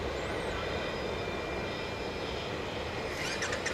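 An American Airlines Boeing 737-800 jet at DFW airport at night gives a steady, moderately distant engine roar with a thin whine running through it, and no voices.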